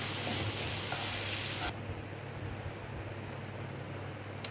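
Onions with sugar frying in a pan, giving a steady dense sizzle that drops a little in level partway through and then continues evenly.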